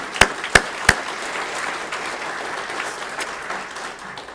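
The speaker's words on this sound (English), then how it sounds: "how about a round of applause for Dan?" Audience at an awards ceremony clapping for an absent honoree, a soft continuous patter of applause from a moderate crowd, opening with three sharp loud claps up close.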